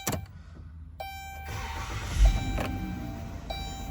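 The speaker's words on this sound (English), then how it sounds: "Cranking up the car." A 2016 Dodge Grand Caravan SXT engine cranks and starts, settling into a low idle after a short whir, with a few faint electronic chimes.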